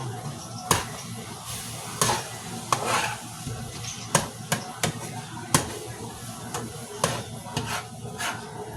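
Meat sizzling in a pan nears the end of cooking, a low steady fry broken by repeated sharp utensil clanks and scrapes against the pan, with faint background voice.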